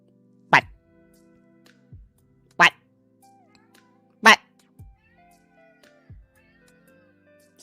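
A cat meows three times, each a short, clear cry spaced a couple of seconds apart, fairly close, over a quiet background with faint low hum.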